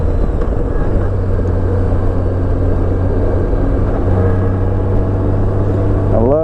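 Honda Goldwing F6B motorcycle engine running on the road, a steady low droning hum with wind rush layered over it, continuous and fairly loud, rising slightly in pitch at the very end.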